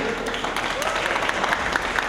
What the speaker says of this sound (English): Clap your hands for the flame.